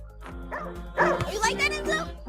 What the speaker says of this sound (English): I see you barking, boy.